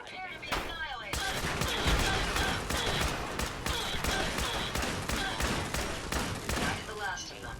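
Rapid gunfire bursts from the game Fallout 4, a dense run of repeated shots mixed with game music and effects, steady and loud throughout with a voice-like layer underneath.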